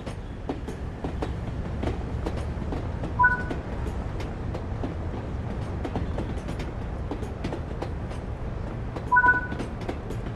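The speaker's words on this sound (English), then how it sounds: "Follow the markers to board the train." A steam train in the video game Train Sim World 3, on a British route, rumbles steadily with a faint rhythmic clatter of wheels, and two short bright tonal chimes ring out several seconds apart.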